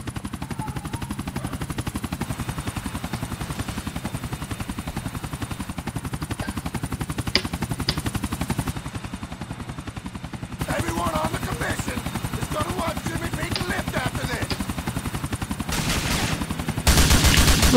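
In the video game GTA IV, a helicopter's rotor thumps rapidly and steadily throughout, with bursts of gunfire crackling over it toward the end, loud and continuous, with a voice talking now and then.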